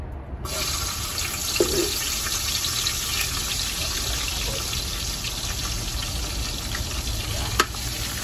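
Garlic fries in a hot pan with oil, giving a close, steady, hissing sizzle throughout, broken by a few faint clinks and stirring sounds.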